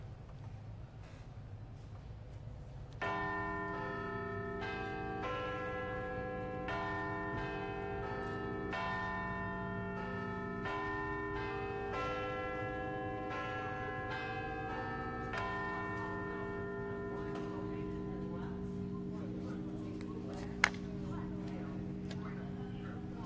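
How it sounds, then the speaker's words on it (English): Big Ben, the large clock tower bell, chimes a slow melody, each strike ringing out and overlapping in a long resonant sustain. "Big Ben is chiming for the last time for 4 years."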